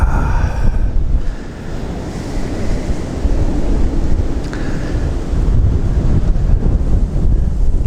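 Gusty wind at a canal during short pole fishing, a steady broadband roar that buffets the microphone throughout, with no voices.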